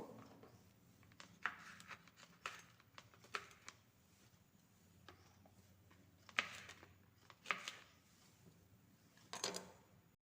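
A knife chops green chillies into medium pieces on a board, sharp irregular taps in short clusters, close and fairly quiet, with pauses between bursts.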